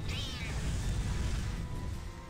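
A Grimalkin cat in the video game GrimGrimoire gives one rising meow near the start, set over a low, rumbling game background that carries on afterward.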